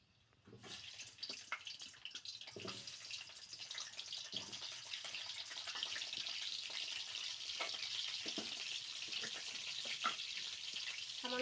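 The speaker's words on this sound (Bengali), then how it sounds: "তেল এবার গরম হয়ে গেছে এবার মাংসের জন্য কেটে রাখা ডুমো ডুমো করে আলু দিয়ে দেবো ভাজার জন্য" Diced potatoes go into hot mustard oil for a duck curry. A soft frying sizzle starts after a moment and swells into a steady hiss, with a few faint clinks and no speech.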